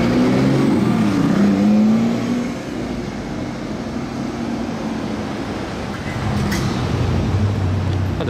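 Spider sports car on the street in Monaco, a loud engine note rising and sweeping past close by early on, then steady traffic rumble that swells again toward the end.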